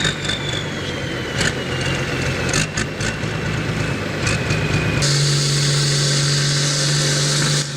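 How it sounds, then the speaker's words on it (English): Heavy diesel engines of a K700 and a 1455 XL tractor strain in a pulling test, a continuous loud droning rumble with revving surges, then a steady pitched hum in the final seconds. "Testing the pulling force of two K700 and 1455 XL tractors."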